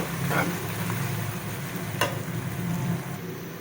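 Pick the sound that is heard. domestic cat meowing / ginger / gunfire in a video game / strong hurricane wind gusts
ginger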